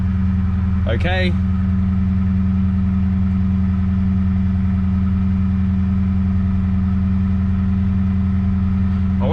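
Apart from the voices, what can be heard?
Holden Commodore SS car engine idling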